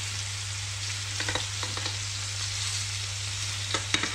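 Venison chops fry gently in a pan, a soft steady sizzle with occasional faint crackles and light utensil taps, close by and with no speech.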